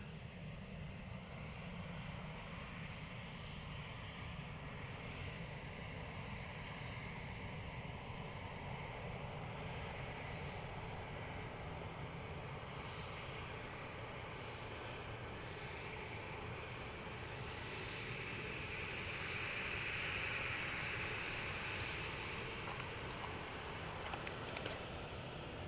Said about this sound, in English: So arrivals looking nice and busy just before high fly departs. She is taxiing now.